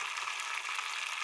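Onion pieces frying in hot oil with tempering spices in a pan, making a steady, close hissing sizzle that continues evenly with no pauses and no talking.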